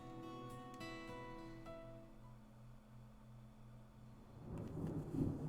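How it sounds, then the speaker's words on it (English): Thunder snow in the video game Deadly Premonition 2 rolls in as a faint, deep rumble that swells near the end, following soft sustained musical tones. "Big black cumulonimbus clouds are in the sky, and that sound. Thunder snow is coming."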